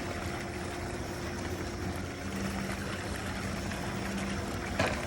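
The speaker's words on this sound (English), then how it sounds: "Like these little fountains, they give off a nice waterfall noise." Steady, gentle splashing of a small fountain at a lake pool in the morning fills the clip, a continuous close trickle with no voices.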